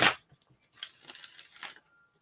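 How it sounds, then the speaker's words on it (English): Oracle cards from a Metamorphosis Oracle deck being shuffled by hand, a sharp riffle snap followed by a couple of softer papery sliding bursts, close and quiet with no talking. "Okay, one more shuffle."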